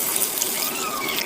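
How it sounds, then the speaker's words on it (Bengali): Hot water poured into a pot of haleem, a short continuous gushing splash, close and fairly loud, heard alone. "পানিটা আমি এখন দেবো"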